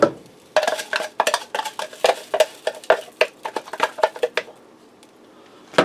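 Instant rice is poured into a skillet and stirred, producing a run of quick, irregular clinks and scraping rattles against the pan, loud and close, easing off near the end.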